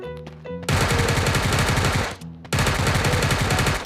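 A UMP9 submachine gun fires in the game Sausage Man, two long rapid full-auto bursts of loud, dense cracks separated by a short pause, with faint tonal game sounds before and between them.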